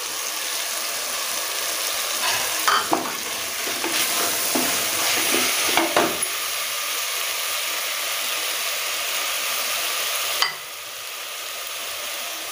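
Mint leaves stirred and fried in a pan for egg biryani, a steady close sizzle with several scraping stirs of a utensil, until the frying hiss drops sharply near the end.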